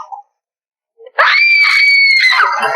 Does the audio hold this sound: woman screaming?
yes